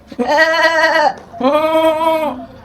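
A person imitates a goat, giving two loud, drawn-out bleats close to the microphone with a short pause between them.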